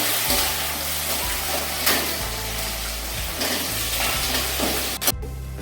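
Onions and curry leaves sauté in hot oil in a pan, giving a steady crackling sizzle with a few sharper spits and a clink of a spatula near the end, with no voices.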